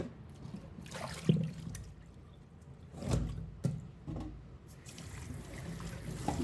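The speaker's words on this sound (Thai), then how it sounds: "ก็ล้างก่อนล้างทำความสะอาดเขาก่อนนะครับ" Taro is washed by hand in water, with soft splashes, sloshing and a few louder swishes at close range and no talk.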